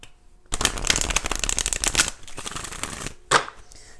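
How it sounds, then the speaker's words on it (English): Tarot cards are shuffled by hand in a quick riffling burst of crisp flutters, followed by a short second riffle, close and clear with no talking. "let's go ahead and do 4 shuffles"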